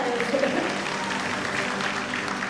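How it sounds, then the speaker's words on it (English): A concert audience at an all-woman mariachi ensemble's performance gives a brief burst of applause, steady clapping from a crowd at moderate distance. "Give yourselves a round of applause!"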